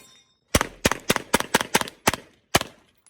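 Eight sharp, loud shots from an Atlas Hyperion pistol fired in rapid precision strings, spaced unevenly with short pauses, each crack followed by a brief ringing decay, with no talking.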